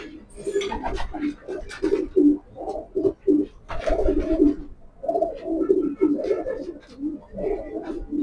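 Pigeons in a breeding loft of young, egg-laying pairs coo repeatedly in overlapping, throaty phrases, close and fairly loud, with no talk over them.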